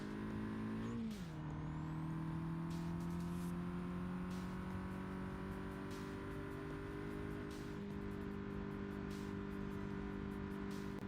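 A car drives and drifts in the BeamNG Drive driving game, its engine holding a loud, steady drone. The pitch dips briefly early on, then stays level for the rest of the clip.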